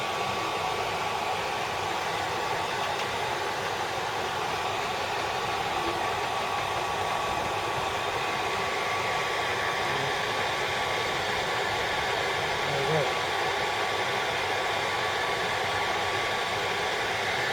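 A hair dryer running on its lowest setting blows steadily to soften the glue under a motorcycle tank pad, giving a continuous broadband whoosh with a faint motor whine, unbroken and close for the whole stretch.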